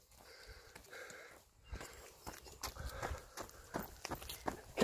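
Cows run past on the ground outside, their hooves thudding in an uneven patter of soft and sharper footfalls at close range, with sniffing and rustling in between and no talk.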